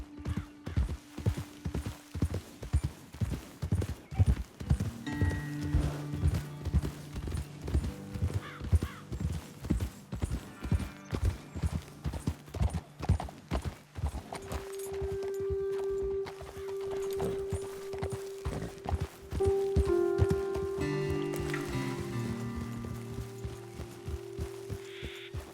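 Horse hooves clip-clopping on a trail in Red Dead Redemption 2, a steady rhythmic walking beat of several horses, close and clear, with a low hum and a brief whinny, later softening under a droning musical tone.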